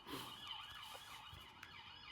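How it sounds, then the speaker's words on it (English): A police car siren wails faintly as the vehicle passes on the road, a steady rising and falling tone over traffic noise with no talk. "as a police car goes past"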